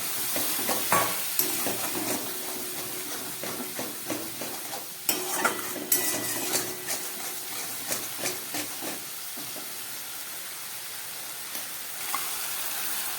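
Crushed black pepper masala sautéing with a little water, a hissing sizzle overlaid with rhythmic spatula stirs and scrapes that thin out toward the end.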